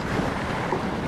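Strong sea waves crash and surge onto a beach at a fishing spot, a loud continuous roar of surf with wind buffeting the microphone throughout, no voices.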